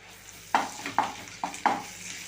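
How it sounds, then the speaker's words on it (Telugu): Ginger paste fries with golden onions in oil under a low steady sizzle, marked by four distinct spoon scrapes and knocks against the pan at a close, moderate level. "ఇప్పుడు అల్లం పేస్ట్ 1 చెంచా వేసుకుందామండి"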